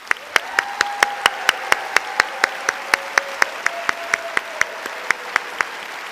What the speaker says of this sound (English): Please join me in a round of applause for all of our new doctors.